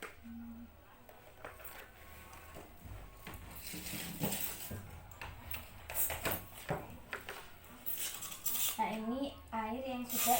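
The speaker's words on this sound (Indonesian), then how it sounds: "Ibu panaskan dan sendok ini dimasukkan ke dalam gelas." A metal spoon clinks against glassware as it is lowered into a glass of hot water during a simple classroom heat experiment, with scattered light clinks and handling noises over faint room tone.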